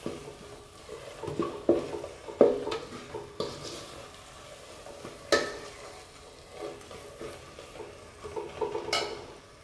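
Masala with pepper powder and cumin stirred and sautéed in a pan, with soft sizzling and repeated scraping clinks of a spoon against the pan, close and steady.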